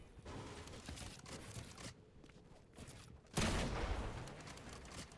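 Gunfire from a Fortnite match, a dense fusillade of shots rattling under game ambience, with a louder burst near the end; faint overall.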